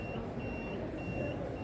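AL-KO hydraulic leveller rams lifting a caravan at a motorhome and caravan show, a steady low mechanical hum and whir with a repeating high electronic beep pulsing over it.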